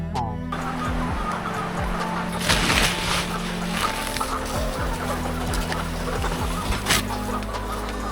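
Laying hens on an egg farm in India, thousands housed together, cluck in a dense constant chorus, with scattered louder squawks over a steady machinery hum.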